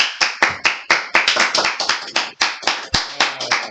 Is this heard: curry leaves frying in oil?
no